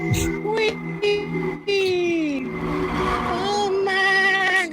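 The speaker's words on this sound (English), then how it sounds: "They're gonna drift right through this" Cars drift in a race, their tires squealing in several long, shifting screeches layered over engine revs, close and loud, with a voice talking over them.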